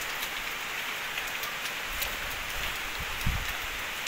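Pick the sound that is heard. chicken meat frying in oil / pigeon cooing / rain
rain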